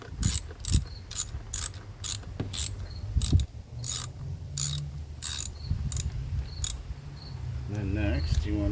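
Ratchet with a 5/16 socket loosening intercooler hose clamps on a 2018 Subaru WRX, a rapid series of sharp clicking bursts in uneven bursts, close and crisp, with a faint voice near the end.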